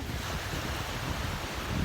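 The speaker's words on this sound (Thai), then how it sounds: "ลมแรงครับริมชายหาด" Strong wind sweeping a beach near Klaeng in Rayong, Thailand, with waves washing in, a constant rough roar and buffeting close to the microphone and no talking.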